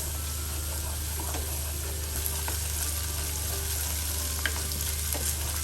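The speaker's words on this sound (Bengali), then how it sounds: "চিংড়িটা এক মিনিট দু মিনিট ভাজলে ভালো হয় তাই আমি একটু ভেজে নিলাম" Baby prawns frying in oil in a pan for a water spinach stir-fry; a loud, steady sizzle fills the scene, broken by occasional light clicks of stirring.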